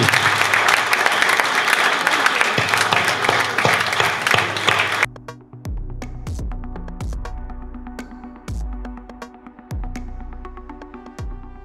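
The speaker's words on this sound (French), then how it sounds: "il mérite tous des applaudissements" Applause from the audience at a French-language cultural debate, a loud dense burst of clapping for about five seconds that cuts off abruptly into quieter rhythmic thumping music.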